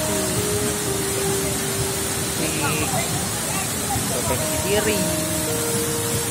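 Rushing water pours continuously at the Davesta waterfall in Curup, a steady broadband roar that stays loud throughout while a person speaks over it.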